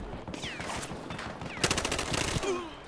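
Rapid bursts of 93R machine-pistol fire in the Battlefield Hardline multiplayer game, a dense run of sharp shots in quick succession over busy game ambience.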